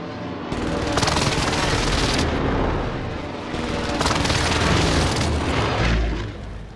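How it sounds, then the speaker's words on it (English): Precision airstrike explosions in the Call of Duty game Rebirth Island, loud rolling booms in overlapping waves with a rumbling, rattling barrage between them, close and sustained, with no talk. "Allied precision airstrike incoming."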